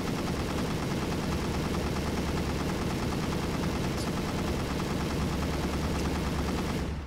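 Continuous rapid weapon fire from an ACF gun in Garry's Mod, a dense, loud, unbroken rattle of shots that cuts off abruptly at the end.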